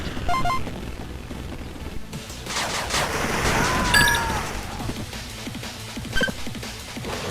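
Gunfire from the 2016 real-time strategy game 8-bit Armies, a busy mix of rapid shots and bursts over a continuous battle din, with louder cracks in places and some game voice lines mixed in.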